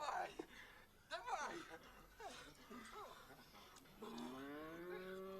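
A cow in the war film Come and See gives a drawn-out low moo near the end, heard faintly beneath someone talking over the film's soundtrack.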